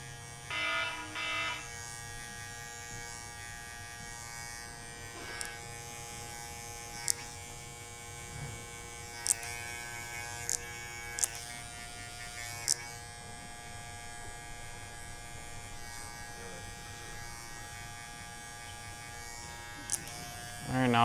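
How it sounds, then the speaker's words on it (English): An electric shaver buzzes steadily and close up, with occasional sharp clicks and taps breaking through the hum. "If you really want to use the shaver, you can go with the grain with the shaver"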